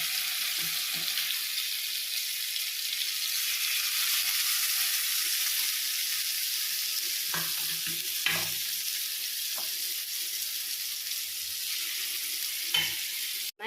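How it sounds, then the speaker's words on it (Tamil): Marinated paneer pieces fry in butter on a flat tawa pan, a steady close sizzle with a few soft clinks and stirring taps, no talking. "இதில் நான் கொஞ்சம் பட்டர் ஆட் பண்ணுறேன் நம்ம மேக்னேட் பண்ணி வச்சுருக்க பன்னீரை ஒன்று ஒன்றா போட போகிறோம்"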